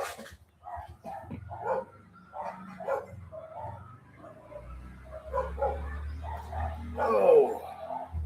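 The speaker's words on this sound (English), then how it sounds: "somebody's got every dog in the neighborhood a howling" Several neighborhood dogs bark and howl in repeated bursts, some near and some farther off, under a steady low rumble.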